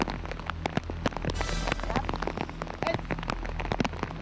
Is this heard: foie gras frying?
no